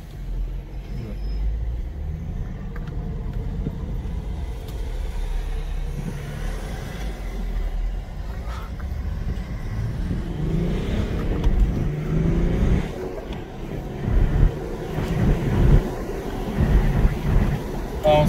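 A BMW 330xd E90 LCI with a 3-litre diesel, four-wheel drive and six-speed gearbox accelerates, a steady low engine drone heard from inside the car that grows in the second half, with wind and road noise.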